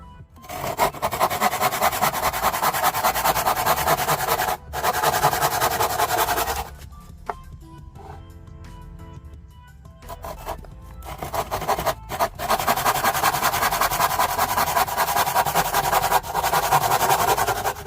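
Steady rasping hand-saw strokes cut rods to 10 cm lengths in long, rhythmic runs, pausing midway before resuming, close by.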